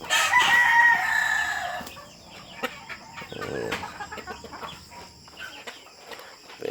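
A rooster crows loudly and close by at the start, followed by scattered clucks from backyard chickens, including shamo fowl, on a farm yard.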